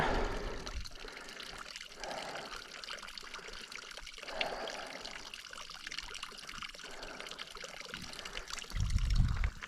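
Gentle trickling water running steadily from a creek spring on a mountain trail nearby, a soft continuous babble with a brief louder gurgle near the end.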